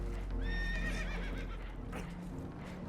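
Spooked horses neighing in Red Dead Redemption 2 aboard a damaged boat taking on water, a clear whinny rising and wavering near the start over a steady low rumble and scattered hoof clatter.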